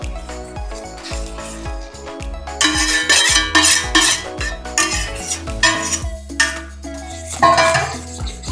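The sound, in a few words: stirring milk and china grass in a pan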